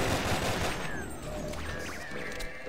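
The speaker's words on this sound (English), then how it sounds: "Shotgun." A shotgun fires in Sven Co-op, a loud close blast with a booming tail, mixed with other game combat noise and no voices.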